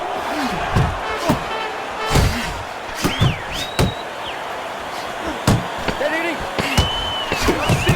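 Punches land in the boxing game Fight Night Champion as a string of sharp, separate thuds and slaps with crowd noise between them, while a commentator talks over the action.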